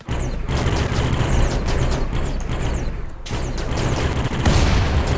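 A suicide belt detonating in the colony sim RimWorld, a loud, dense, crackling explosive roar lasting several seconds, with a brief dip midway before another heavy burst.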